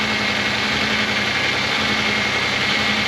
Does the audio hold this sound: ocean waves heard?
no